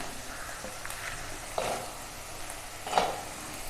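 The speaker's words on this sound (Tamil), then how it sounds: "பாருங்கள் ஃப்ரை ஆக ஆரம்பிச்சிருச்சு." Garlic, chana dal and chillies frying in oil for tamarind rice, a low steady sizzle with a couple of soft stirring scrapes, close but quiet, no voices.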